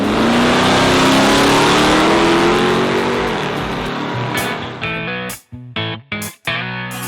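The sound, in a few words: Dodge D150 Adventurer Little Red Express truck engine revving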